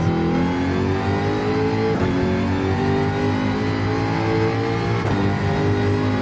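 A Jaguar race car in the Gran Turismo 7 racing game revs loudly and steadily at high engine speed, with a brief gear-change dip around two seconds and another near five seconds, with no talking.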